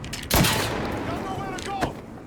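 Gunfire from the sky in Mafia 3, a loud sudden blast followed by a long rumbling decay and a second smaller burst, with shouting voices mixed in.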